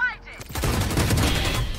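Video game gunfire from an ODIN, a dense, continuous burst of rapid shots that starts after a brief voice and carries loudly to the end.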